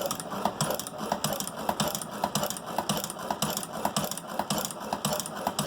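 A Chinese hand-crank sewing machine stitches in a steady, even rhythm of rapid mechanical clicks and thumps, close up, with no voices.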